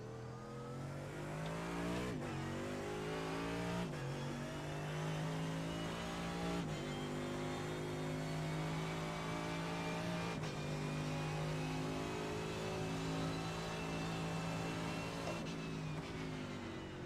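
A GT race car screams around the Suzuka circuit in the iRacing simulator, its engine holding a steady high-pitched drone broken by several sharp downshifts and drops in pitch under hard braking, with no talk over it.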